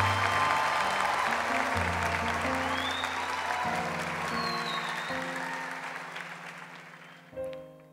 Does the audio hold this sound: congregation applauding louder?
yes